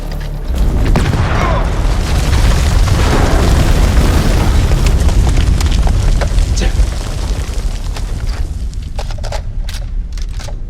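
A loud grenade explosion in House of Ashes, a deep booming blast that fills the space, then a long rumbling, crackling tail that slowly thins out, with scattered sharp debris pops near the end.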